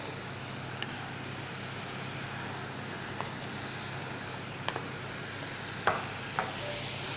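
Meat and onions sautéing together in a pan, releasing their juices and fat, a faint, steady low sizzle with a few soft scattered clicks and stirring taps, no speech.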